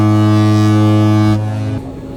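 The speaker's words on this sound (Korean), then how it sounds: "선수와 선미의 기적이 설계대로 정확히 울리는지 확인하는 절차입니다." Deep, sustained horn blasts from a large LNG carrier during sea trials, a loud harmonic tone holding steady before cutting off and fading into open-sea ambience.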